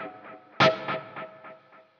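A single plucked electric guitar note through an amp plugin rings out, followed by a string of evenly spaced mono delay echoes that gradually fade away.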